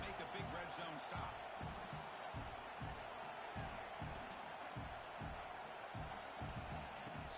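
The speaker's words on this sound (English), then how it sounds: "This crowd is trying to inspire this defense to make a big red zone stop." Stadium crowd roar in a College Football 26 video game, a steady wash of cheering and noise with rhythmic low thumps, carried continuously beneath a commentator's voice.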